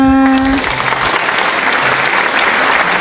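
Applause from a class of schoolchildren, a dense burst of clapping that starts just after a short musical tone and continues steadily and fairly loud throughout.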